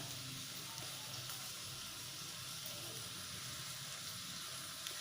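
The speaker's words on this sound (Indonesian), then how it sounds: "ini adalah penampakan cara saya panggang sate dalam HappyCal" Satay skewers grilling in a HappyCal pan give off a faint, steady sizzle and hiss that runs without a break from start to finish.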